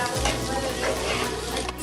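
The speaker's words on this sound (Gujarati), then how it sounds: "હવે મિક્સ કરી લઈશું આપણે." Vegetable momo filling with turmeric and salt is stirred in a hot pan, making a loud continuous sizzle with scraping and mixing noises for a couple of seconds.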